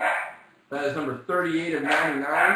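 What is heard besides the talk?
dogs barking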